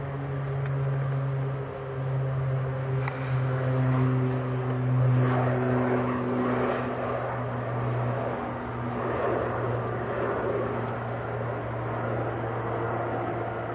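Airliner taking off at Manchester Airport, a steady jet roar with low droning engine tones that holds loud and close throughout, swelling slightly midway as it rotates.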